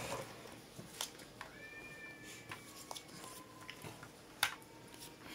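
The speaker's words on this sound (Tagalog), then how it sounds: "Mga pusa." Cats meowing indoors, a few faint, drawn-out meows rising and falling amid soft clicks and chewing-like noises, with brief sharp knocks between them.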